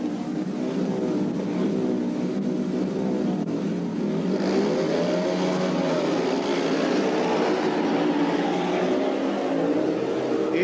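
Speedway motorcycles racing off the start in a Sparta Wrocław versus Polonia Bydgoszcz first-league meeting, a continuous loud engine roar with rising and sweeping pitch as the bikes accelerate away, heard from a distance without talk.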